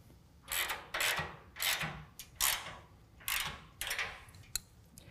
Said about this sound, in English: we're going to tighten this down with a 13 millimeter ratchet and wrench